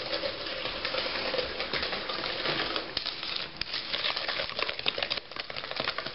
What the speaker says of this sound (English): It'll make it very runny, so you gotta make sure you stir it thoroughly.